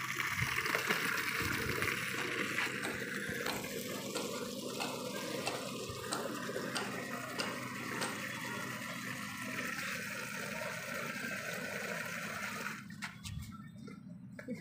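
Water pours steadily into a container set out for birds and pigeons, a continuous rushing splash that runs for several seconds before tapering off near the end.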